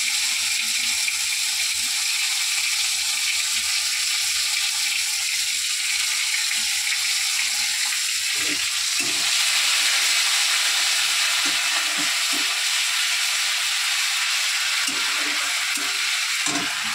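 Cumin with ginger and green chili paste frying in a pan, a steady loud sizzle throughout with occasional stirring scrapes.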